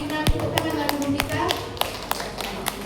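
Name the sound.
applause for Tina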